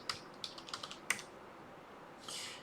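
Keys clatter on a computer keyboard as commands are typed, a quiet, close series of light irregular clicks in a short burst, then a brief pause and a soft hiss, no one speaking.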